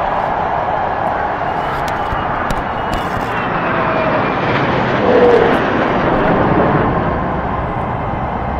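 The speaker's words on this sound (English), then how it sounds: "New, modern-day aircraft flying alongside World War II, Korea, or even Vietnam-era airplanes" A military heritage flight with a P-51 flies over a Super Bowl crowd, its aircraft engines making a loud, sustained broadband roar that swells slightly midway through as the planes pass.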